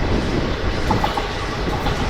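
A moving train hauled by a WDP 4V diesel locomotive gives a steady, loud rumble and roar throughout, with faint wheel clatter under it and no voices.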